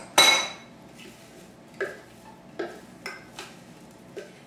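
Cookie crumbs are packed into a 13 by 9 inch baking dish: one sharp clink at the start, then a handful of quiet, spaced taps and scrapes against the dish, with no talking.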